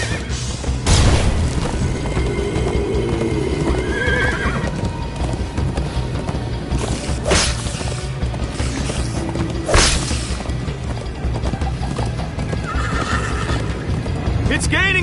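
In a PS4 video game, a horse gallops with rapid clip-clop hoofbeats and gives several loud neighs and whinnies, mixed with crashes and booms while people talk over the action.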